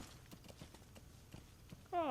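In the video game Metal Gear Solid V: The Phantom Pain, soft, quick hoofbeats clop along faintly, then a horse lets out a loud, high whinny at the very end.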